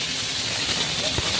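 Onions drop into hot oil with garam masala and bay leaf for a desi chicken curry, setting off a loud, steady, hissing sizzle that fills the short moment up close.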